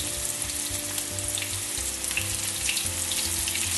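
Meatballs frying in a pan, a continuous close, even sizzle of hot oil with no voices.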